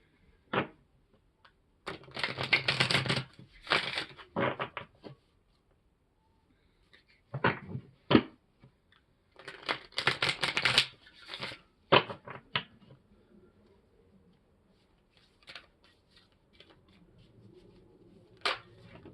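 A tarot card deck is shuffled in several bursts of crisp riffling and flapping, separated by short pauses and followed by faint taps, close and fairly quiet.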